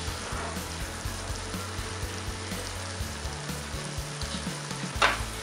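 An egg masala mixture with roasted cumin and salt sautéing in a pan, giving a steady close sizzle throughout with soft stirring scrapes and a brief sharper clink near the end.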